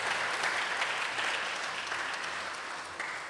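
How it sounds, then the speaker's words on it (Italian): Steady applause from a crowd at an academic conference session, a dense wash of clapping that holds evenly for a few seconds and tapers slightly at the end. "un applauso ai nostri relatori"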